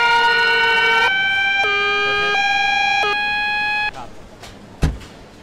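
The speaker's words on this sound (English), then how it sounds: "I did call for the second ambulance" An ambulance in the Emergency 4 video game sounds its siren, a loud, close two-tone wail that alternates pitch for about four seconds and then cuts off, followed by a sharp thump.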